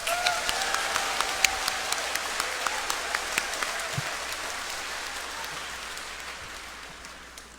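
A church congregation applauds at a patronal feast homily, a wash of clapping with sharper individual claps standing out, gradually tapering off over several seconds.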